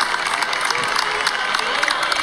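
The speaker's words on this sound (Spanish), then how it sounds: "ponemos un poquito del aplauso." Dense crowd applause and cheering during a caravan with the volunteer firefighters' fire truck, a continuous wash of clapping without pause.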